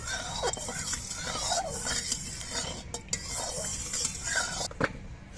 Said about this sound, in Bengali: তেলটা কড়াইয়ের চার পাশ দিয়ে আমি একটু মাখিয়ে নিচ্ছি